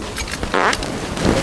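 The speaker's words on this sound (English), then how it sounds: "I just want to fart real quick." A fart let out in a quiet library, a single rasping burst in the middle of a short stretch of low room noise and shuffling, close to the listener.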